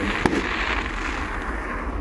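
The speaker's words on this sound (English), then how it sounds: "Now these are proper commercial fireworks," Commercial fireworks at a Rhyl display boom in the distance, one sharp crack standing out early over a continuous rumbling, crackling wash of bursts.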